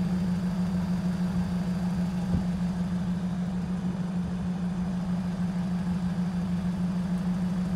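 A car engine idles steadily right at the exhaust pipe, a constant low hum with a faint uneven rumble that runs unchanged for the whole stretch, close and moderately loud with no talking.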